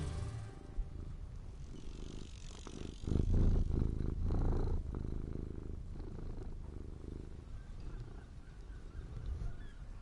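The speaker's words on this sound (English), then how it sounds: "Just a little bit of purring?" Low, rumbling cat purr, close and steady, rising louder midway then settling into a softer continuous vibration with faint background sounds.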